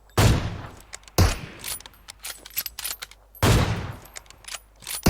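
Gunfire in the PUBG Mobile video game: three loud, sharp shots or short bursts stand out, with scattered softer clicks and clatter between them and no talking.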